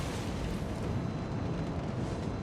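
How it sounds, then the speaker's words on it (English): Torpedo hits exploding against a ship in World of Warships, a dense, sustained rumbling roar of blasts that stays loud and unbroken throughout, with no talk. "Cap can run right up alongside him here and put every torpedo on target."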